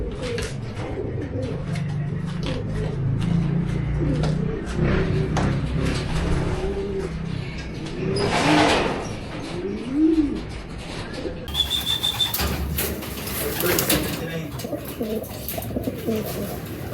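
Racing pigeons arriving at a loft after a 305 km derby race from Ligao, Albay to Dasmariñas, Cavite, with several soft low coos and wing flutters nearby, backed by background chatter and light outdoor noise.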